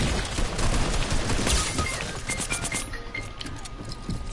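Gunfire from the video game Fortnite comes as dense, rapid bursts of shots that are loud at first and then thin out into scattered shots toward the end.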